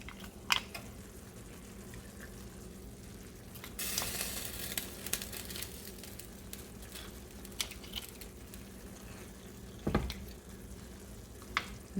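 Cooked, frozen mussels go into a seafood paella pan, setting off a steady close sizzle and frying hiss, with a brighter burst of sizzling where they land and a couple of soft clatters.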